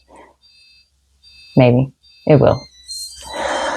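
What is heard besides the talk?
electronic beeping from a device in the background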